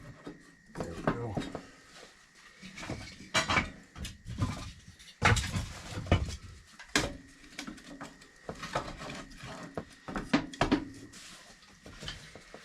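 Wood pieces being handled and shifted to fit into a space, with scattered knocks, scrapes and rubbing thumps at varying loudness, close by and fairly quiet overall.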